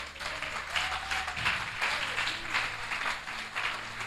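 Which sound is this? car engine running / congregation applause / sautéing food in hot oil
congregation applause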